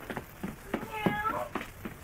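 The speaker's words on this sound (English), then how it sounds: "Meow." Repeated meowing from a cat in a radio-drama scene, several short cries in quick succession with one longer, wavering call, mixed with other voices.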